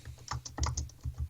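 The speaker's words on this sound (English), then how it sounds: "Someone's typing up a storm." Fast, uneven clatter of keys on a computer keyboard, a flurry of close, crisp clicks with no talk.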